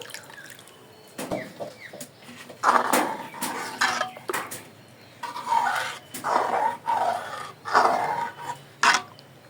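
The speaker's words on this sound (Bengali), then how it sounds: "বাটিটা ধুয়ে একটু জল দিয়ে দিব।" Water swirled in a bowl and poured into a pot of cooked chicken halim, heard as close clinks of a bowl against metal and splashing pours in uneven bursts, with no talking.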